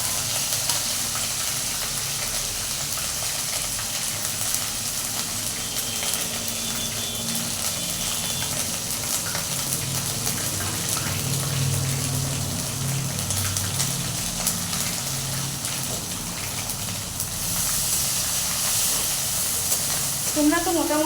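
Ginger-garlic paste and bay leaves frying in hot oil, a steady hissing sizzle running throughout with occasional stirring scrapes, close and fairly loud, no talking.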